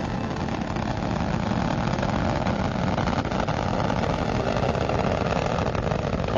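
Space Shuttle Atlantis's three liquid-fuel main engines roar during launch as the vehicle climbs toward orbit, a dense, steady, loud broadband rumble that continues unbroken with no voices.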